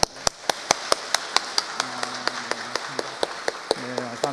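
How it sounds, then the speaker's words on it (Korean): Church congregation clapping together in welcome, an even and regular run of sharp claps from a group. A few brief murmurs and voices sound under the clapping. "우리 환영의 박수 한번 하도록 하겠습니다."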